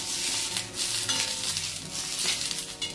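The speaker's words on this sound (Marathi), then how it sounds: "चांगलं आपल्याला असे डाग पडूपर्यंत भाजायचे बघा मिरच्यांना" Green chilies fry in a pan for a parasbi (cluster bean) vegetable dish, with steady sizzling and the scrape and clink of a spatula stirring against the pan throughout.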